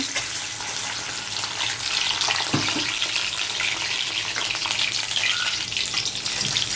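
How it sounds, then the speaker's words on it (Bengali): Five eggs frying in hot oil in a wok give a steady, dense crackling sizzle that runs throughout, close and fairly loud, with a few brief clinks of a utensil. "আমি কড়াইতে তেল গরম করে পাঁচটি ডিম দিয়ে দিয়েছি"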